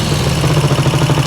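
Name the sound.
Vincent Rapide 1000 twin motorcycle engine exhaust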